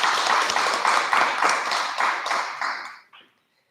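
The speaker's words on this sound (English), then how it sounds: "Big round of applause for Eva Harmon." A burst of applause from a crowd at a school graduation, dense clapping rising in waves and then quickly dying away to silence.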